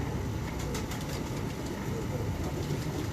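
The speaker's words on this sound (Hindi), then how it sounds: "ये बड़ा कबूतर" Pigeons at a breeder's loft coo softly amid a dense, continuous background rumble, the bird calls faint and blended into the noisy surroundings.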